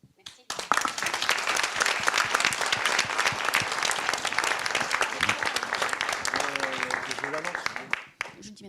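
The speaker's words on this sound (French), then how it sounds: "On peut les applaudir une dernière fois" Sustained audience applause closing a round-table panel at a regional cooperatives congress, many hands clapping loudly and evenly for several seconds before fading out, with a voice briefly heard near the end.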